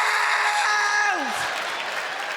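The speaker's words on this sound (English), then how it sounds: "Feel all the mums applauding" Stand-up comedy audience breaks into applause mixed with laughter and a whoop, a sustained roar of crowd noise with a rising then falling voice tone over it at the start.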